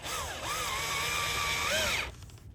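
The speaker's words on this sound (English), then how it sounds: "We're just going to put the drill in right there at the top, and the holes will line up again like they did last time." A power drill bores holes while fitting a replacement door seal, its motor whining in a sustained pitch that rises and dips under load for about two seconds before cutting off abruptly.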